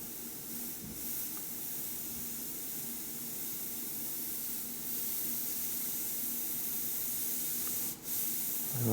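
An airbrush sprays paint in a steady, close hiss to enhance a painted crack above a skull's nose socket. The spray runs almost continuously, with brief dips near the start and toward the end.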